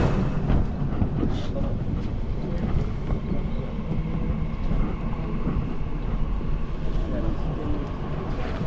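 A driverless automated metro train on Istanbul's B5 Üsküdar–Samandıra line runs with a steady low rumble and rattling throughout, while a person talks over the noise.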